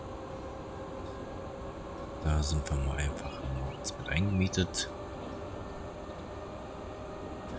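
A train from the Transport Fever 2 game rolls through a station, a steady rail rumble with clanking bursts in the middle, heard under a quiet voice talking.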